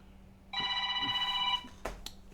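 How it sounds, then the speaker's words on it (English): An incoming call rings on a telephone, a steady electronic trill lasting about a second at moderate loudness, followed by a few faint knocks and rustles in a quiet room. "we got a phone call now"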